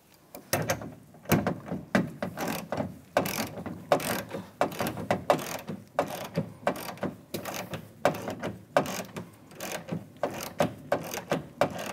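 Ratchet wrench backing out a door handle bolt on a 2007-2013 Chevrolet Silverado, a steady run of close, loud clicking pawl strokes repeating in quick rhythmic bursts for the whole stretch, with no talking.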